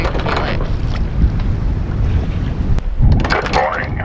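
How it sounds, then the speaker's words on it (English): A sailboat being inched off the shallows with its windlass and a little engine power, heard as a steady low engine rumble under wind buffeting the microphone, with a sharp click near the end. "we're just bringing it in, inching it in with the windlass and a little bit of engine"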